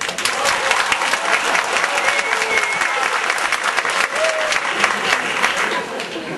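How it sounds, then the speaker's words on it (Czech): Audience applause fills a live hall for the whole stretch, a dense, steady clapping from a sizeable crowd with no break. "A pokud s odpovědí B, tedy šťastně rozvedení, tleskejte teď."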